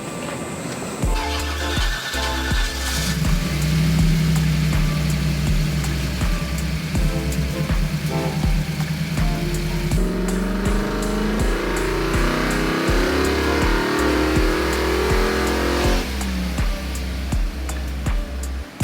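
A Holden Kingswood fitted with a swapped-in 304 V8 idles with a deep, loping rumble, then revs up and settles back, loud and close throughout, with no talking over it.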